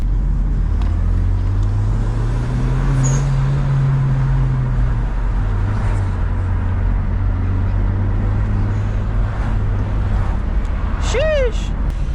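A Hyundai Genesis Coupe 2.0T drones steadily from inside the cabin while driving, its engine note rising and then settling. A brief turbo whistle chirps near the end, and a voice talks faintly over the sound.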